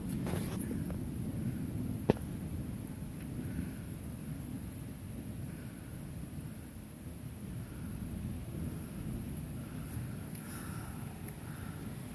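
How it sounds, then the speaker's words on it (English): A thunderstorm in Rochester gives a low, continuous rolling rumble of thunder under a faint hiss of rain, distant and subdued, with no one speaking. "So we've got a thunderstorm here in Rochester at the moment."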